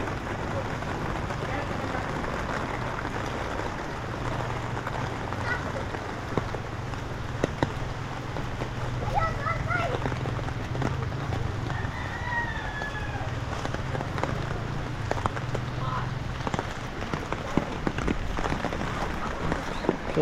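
Strong floodwater rushes past a vegetable plot after a full day of rain, a steady broadband roar throughout with a low rumble and occasional birdcalls, a person talking intermittently over it.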